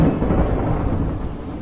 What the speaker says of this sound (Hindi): गांव में तूफान आने की वजह से सब कुछ तबाह हो जाता है।